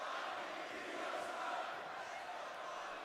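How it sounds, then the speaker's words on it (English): Arena crowd at a WWE Raw wrestling event chanting for Iyo Sky and Rhea Ripley, a dense, steady roar of many voices filling the hall with no gaps, loud and sustained throughout. "Crowd is chanting for both Iyo and Mommy"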